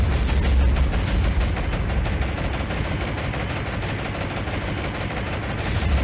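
Bombs from Japanese carrier aircraft slam into ships in the naval combat game War on the Sea, producing a loud, continuous barrage of booming impacts and crackling blasts that rumbles without pause.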